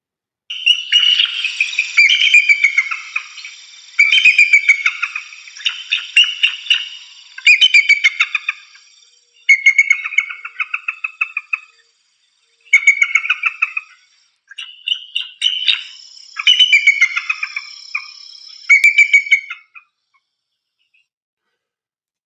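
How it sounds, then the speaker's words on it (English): A recorded eagle call plays back as repeated bursts of high, piercing chattering whistles, each run of rapid notes separated by short pauses over about twenty seconds, loud and clean against silence. "I'm going to play you an eagle, right?"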